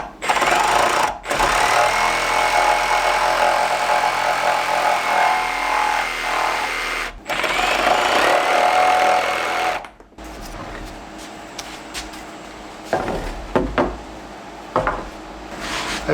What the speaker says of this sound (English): I'm just going to cut a notch down at the bottom where it hits the original bottom plate